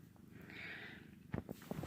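A pet cat purrs softly up close, a low, faint rumbling with a few quiet thumps and rustles toward the end.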